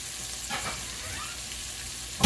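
Onions fry in a pan alongside hamburger steak, giving a steady close sizzle throughout that ends in a short loud clatter.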